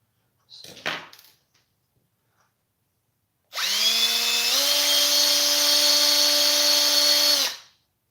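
A power drill whirs up and runs at a steady high pitch for about four seconds, boring into an adapter plate for a Traxxas UDR XT90 install, after a brief earlier rustle of handling.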